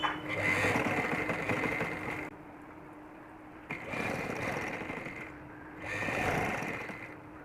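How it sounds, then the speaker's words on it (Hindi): Sewing machine stitching along the fabric edges of an umbrella-cut baby frock, running in three steady bursts separated by short pauses, close and fairly loud with no talking. "इसके बाद मैं इसके किनारों पर सिलाई लगा दूँगी"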